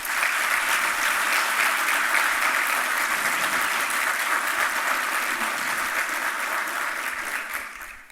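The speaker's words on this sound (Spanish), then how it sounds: "y le pido un aplauso a la ministra." A business-event audience applauds a minister with continuous clapping that stays even and strong before fading away at the end.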